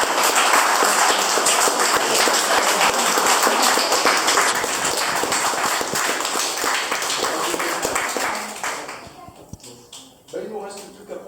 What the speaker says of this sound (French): J'aurais bien souhaité qu'elle ait droit à quelques applaudissements.